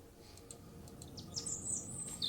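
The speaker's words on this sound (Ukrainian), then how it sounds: "Пташечка! Пташечка полетіла." Bird chirps in the video game Underground Blossom: a few faint, high tweets scattered over a quiet ambient hum, growing slightly brighter toward the end, with no voices.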